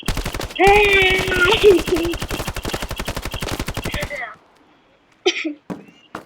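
Rapid automatic video game gunfire rattles steadily for about four seconds over a sustained tone, then a few scattered bursts follow after a pause.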